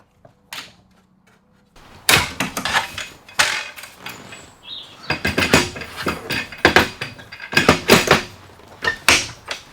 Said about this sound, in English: Just going to remove a strap, unlock this bit, and then there's one bit of cardboard to remove.